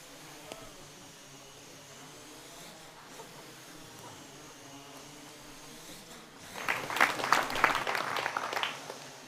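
A small quadcopter drone buzzes faintly, then rises into a loud, dense whirring burst near the end as it flies in to strike a ball.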